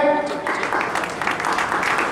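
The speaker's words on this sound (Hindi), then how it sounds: "सभी तालियां बजा रहे हैं कृपया" An outdoor Ramlila stage gathering claps for an honoree, a busy patter of hands mixed with someone speaking over a loudspeaker.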